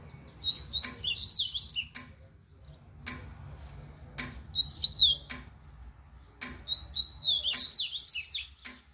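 A coleiro (seedeater) training song recording plays: three bursts of bright, rapid chirping song separated by pauses, with sharp ticking clicks scattered throughout against a low background hum.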